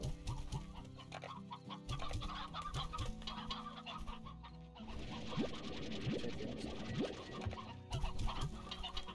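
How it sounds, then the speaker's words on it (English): Hens clucking in a video game about slimes, with several bird calls scattered over a busy, continuous game soundtrack, moderately loud throughout. "Oh, hens everywhere."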